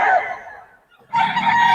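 Two loud, close bursts of rooster crowing separated by a brief pause, harsh and drawn out with no talking.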